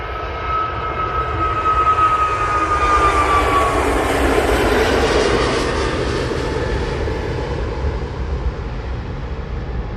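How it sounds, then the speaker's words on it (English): A Jet2 Airbus A321neo jet at Manchester Airport rumbles loudly and steadily, with a high engine whine sliding downward as the roar swells and passes over ten seconds, no talk. "So this is Jet 2, A321 Neo."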